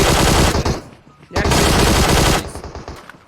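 Rapid automatic gunfire in PUBG Mobile, loud close bursts of shots broken by a short pause, with faint talk underneath.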